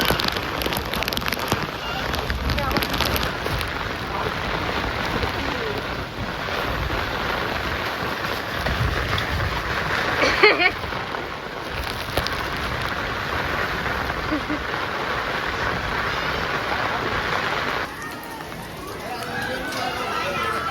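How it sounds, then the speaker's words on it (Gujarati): Heavy rain pours in Surat during flooding, a dense continuous hiss of water falling on surfaces, fairly loud throughout, with a brief louder burst partway and people talking under it. "આ બાજુથી વરસાદ આવે છો"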